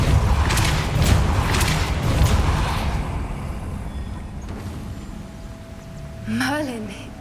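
Depulsor spell effect in Hogwarts Legacy, cast amid busy in-game noise with a voice speaking, ending in a brief warbling, swooping magical whoosh near the end.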